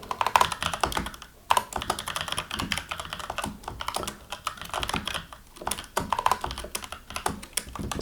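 Typing on a computer keyboard, with quick, uneven clusters of clicking keystrokes and a few brief pauses, close and clear throughout.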